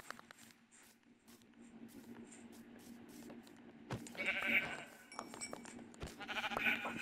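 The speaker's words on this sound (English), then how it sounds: "So, oh, two sheep." Sheep bleating in the Minecraft video game, a few short game-sound bleats over light in-game background noise, with no talk.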